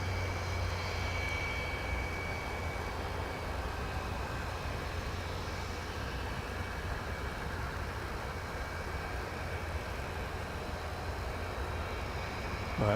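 A jet airliner roaring down a runway at DFW Airport on takeoff, a steady broad engine rumble and whine heard from a distance, unchanging in level throughout.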